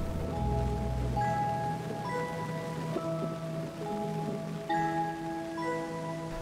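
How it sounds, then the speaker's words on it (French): Steady rain falls on an equatorial forest in Gabon in a dense, continuous hiss, with sustained tonal hums layered over it throughout. "poussent les nuages qui inondent la forêt équatoriale de leur pluie"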